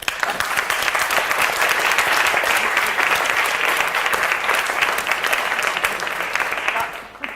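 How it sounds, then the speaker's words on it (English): An audience at a debate applauds, dense and steady clapping that carries on for several seconds before fading out. "can all applaud that, or we have just all applauded that"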